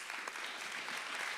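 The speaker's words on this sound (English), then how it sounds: "give the panelists a round of applause" A dense wash of audience applause rises for panelists at a human rights film festival, steady and fairly loud throughout with no voices on top.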